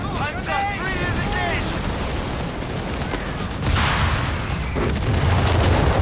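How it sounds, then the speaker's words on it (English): Heavy mortar fire in the Company of Heroes 3 video game during a 2v2 match: dense, continuous booming battle noise with repeated explosions that swell louder toward the end, with a brief voice-like whistle early on. "Heavy mortar action."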